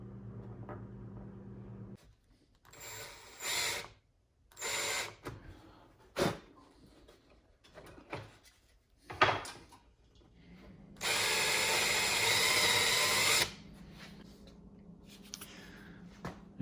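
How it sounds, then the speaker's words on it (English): A power drill with a 5/32 inch bit boring holes in a wooden cabinet drawer front, short bursts of whirring spaced out, then one sustained high drilling run of about two seconds, with clicks and handling knocks between. "that's just a 5/32 inch drill bit that I'm using"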